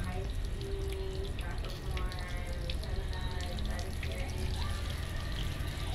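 Water runs strongly from a tap during laundry washing, a steady rushing and splashing stream that continues throughout, while a person speaks over it.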